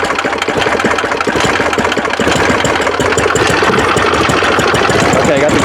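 Lawn tractor engine idling roughly on one cylinder, a loud uneven chugging knock with a choppy pulse throughout, while someone talks over it.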